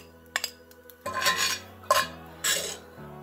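Cooked rice being pressed into bowls for omurice with a utensil, a few scraping and clinking strokes against the bowl over a quiet kitchen hum, without speech.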